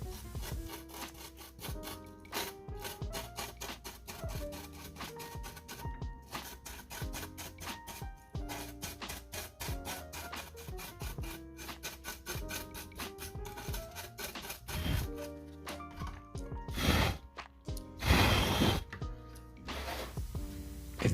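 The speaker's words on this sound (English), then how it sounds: "so we're just going to use a toothbrush to remove it." A toothbrush scrubs dust from the vent grates of a Lenovo Ideapad 320 laptop, a steady, fast, close scratchy rubbing that runs on with brief louder strokes near the end.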